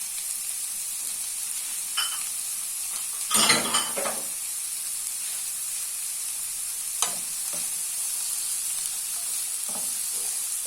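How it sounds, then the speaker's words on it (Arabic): Onion frying in oil in a pan gives a steady, continuous sizzle throughout, with a brief burst of louder crackling and stirring near the start and a few faint clicks later, close by. "من بعد ما كنديرو الزيت لو سيور كنلوحو البصله تشحر"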